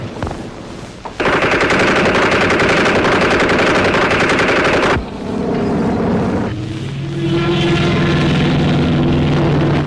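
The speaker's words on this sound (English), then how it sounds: "Armed with a streetwise Chicago gangster attitude and a Tommy gun, Ward Bond was able to do a fly-by shooting on a fucking airplane." A Tommy gun fired from an airplane in a war film, a long loud unbroken burst of rapid automatic fire that cuts off, then a droning aircraft engine carries on alone.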